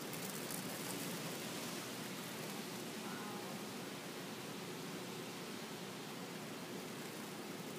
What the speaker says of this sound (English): It's raining right here.